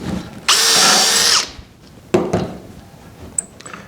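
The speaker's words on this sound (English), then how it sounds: "now in this case we're going to be drilling through 3" A power drill bores dowel holes into a wooden dresser rail, one loud whining burst lasting about a second, followed by a short second bite and a few faint clicks.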